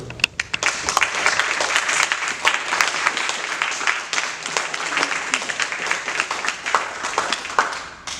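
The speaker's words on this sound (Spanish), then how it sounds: "Un aplauso." A room full of people applauding steadily at a lecture, a dense patter of many hands clapping at close range for several seconds.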